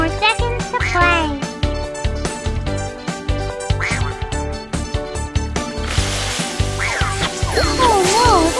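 Cartoon ducks quack repeatedly in the Baby Panda's Carnival children's game, mixed with bright, busy game music and jingly effects; a child-like voice is heard briefly.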